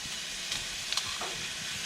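Eggs fry in a pan during a beachside lunch cook, a steady soft sizzle and hiss running throughout, with a few faint clinks and scrapes.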